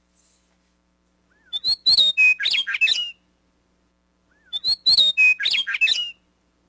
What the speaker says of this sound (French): Et maintenant, écoutez le chant de la sturnelle de l'Ouest.